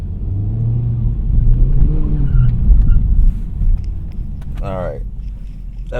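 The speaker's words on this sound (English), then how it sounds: "Let me get some lift off oversteer." An Acura Integra Type S in a parking lot gives a steady engine rumble with a rise in revs and a short tyre chirp late on, while someone talks over it.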